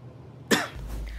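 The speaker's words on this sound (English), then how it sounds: "he coughed a couple seconds after that guy donated" A single sharp cough bursts out abruptly from a man in a streamed video, one short harsh burst rising out of quiet background noise, followed by a low rumbling hum.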